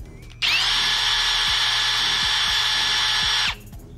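A PUMA PM-280BL brushless cordless drill set to high gear spins up with a steady, loud high-pitched whine, runs evenly for about three seconds, then winds down, heard alone up close.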